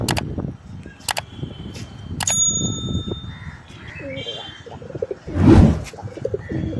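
Pigeons in a cage coo and call nervously, with several rounded calls close by. Sharp metallic rings and chirps are heard, a louder burst of flapping or scuffling comes near the end, and light voices sit in the background.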